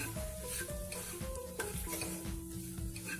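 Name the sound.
stirring egg bhurji with coriander in pan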